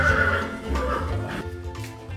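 A Finnhorse neighs loudly and close at an outdoor trotting event, a long quavering whinny that tails off into a lower snort, heard alone without speech.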